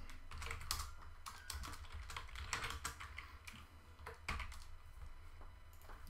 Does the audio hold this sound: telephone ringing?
no